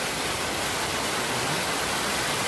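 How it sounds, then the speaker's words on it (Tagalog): Heavy rain pours down in a steady, loud, unbroken roar at a house terrace where a polycarbonate roof is being built, a broad hiss with no gaps or voices. "Ang lakas ng ulan, pero okay naman siya, walang tulog."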